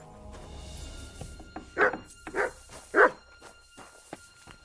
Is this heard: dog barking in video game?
yes